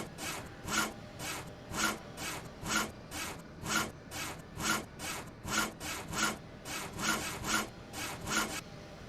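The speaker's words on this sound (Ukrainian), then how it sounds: "ми ріжемо звичайною пилкою. Ну, ножівкою." In the video game GTA 5, a character cuts wood with an ordinary hand saw, producing a steady back-and-forth rasp of about twenty evenly spaced, close strokes with no voices.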